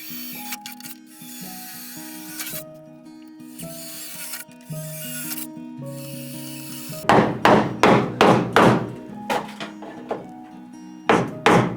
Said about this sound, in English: we are using a wood chisel, specifically because it's long and narrow